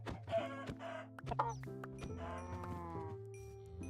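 Chickens cluck in Minecraft, with repeated short clucks layered over steady sustained game music tones, alongside bleat-like animal calls from the farm.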